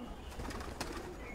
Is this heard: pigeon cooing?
yes